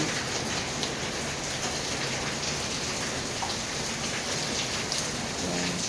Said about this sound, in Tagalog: Kanina pa maulan guys, tapos may kasamang hangin dahil may bagyong Inday.